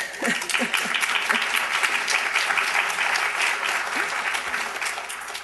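A symposium audience applauds continuously, a steady wash of many hands clapping at moderate volume with faint voices mixed in.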